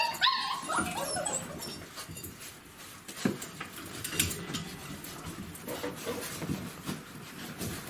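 Puppies whimper and yip softly near their mother dog, with faint, irregular high squeaks and small whines over a low, rustling background, quiet and close.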